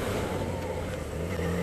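A Yamaha XJ6 motorcycle engine revving nearby, a steady throaty drone that swells slightly toward the end, with no talk over it.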